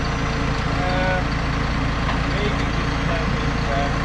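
A heavy truck towing a Primetech 175 on a job site rumbles steadily at close range, its engine note constant and loud throughout, with voices talking over it.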